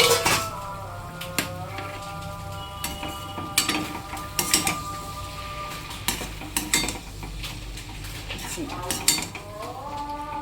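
A metal lid is lifted off a cooking pot of potato and snake gourd curry with tomato simmering on low flame, giving several scattered clanks and rattles of metal utensils over a steady low hum.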